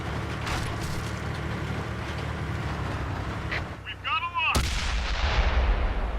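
Tank cannon fire in the World of Tanks video game, a heavy rumbling battlefield bed topped by a sudden loud booming shot with a ringing, whining tail.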